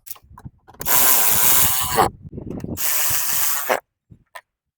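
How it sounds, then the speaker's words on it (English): Two bursts of ratcheting wrench or power driver work tighten a pair of 10mm bolts on a Toyota Camry during air filter replacement, each lasting about a second, loud and close, with faint clicks between and afterwards. "we tighten these two 10mm bolts down"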